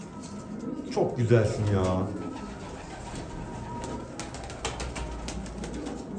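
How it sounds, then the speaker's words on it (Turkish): Pigeons in a loft coo softly at close range and wings flutter briefly, while someone talks over the birds. "Şurada siyah paçalı bir tane güvercinim var."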